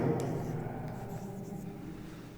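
Chalk or marker writing on a classroom board during a mathematics lesson, a faint scratchy stroking texture heard alone against a quiet room hum.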